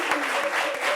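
Audience applause in a live studio show, a dense, steady wash of clapping filling the whole brief moment.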